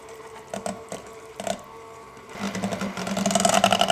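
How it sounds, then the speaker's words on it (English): An electric hand mixer beats pumpkin muffin batter in a bowl: a mechanical whir with a few short bursts at first, then a steadier, louder rattling buzz as mixing continues. "take our hand mixture, and you wanna mix everything until it's well incorporated"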